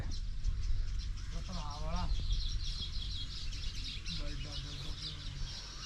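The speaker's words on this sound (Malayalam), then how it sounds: "ഒരുപാട് പക്ഷികളുണ്ടല്ലോ അവിടെ" Several birds call and honk through a steady background hiss, with a person talking over part of it.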